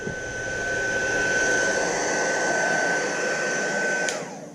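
A heat gun blows hot air steadily onto an emblem on a Honda Goldwing motorcycle fairing, making a loud, constant whining hiss close by that cuts off abruptly near the end.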